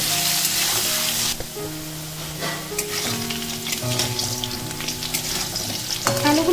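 Potato pieces fry in hot oil with salt and turmeric over a high gas flame, a loud continuous sizzle with occasional stirring scrapes and no voices.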